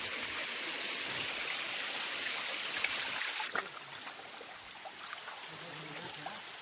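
Water runs down a small stream on a rocky cliff in Konkan with a steady, hissing rush that stays even throughout, broken by a brief knock near the end.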